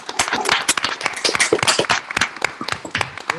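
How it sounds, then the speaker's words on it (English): An audience in a room gives a round of applause after a presentation: steady, dense clapping from many hands, close and fairly loud, with no talk over it. "let's give you a wonderful round of applause for this presentation"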